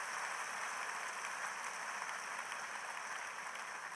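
A church congregation applauds and acclaims the Holy Spirit during a healing sermon, producing a dense, steady wash of clapping and crowd noise that holds loud and continuous for the whole stretch with no clear single voice.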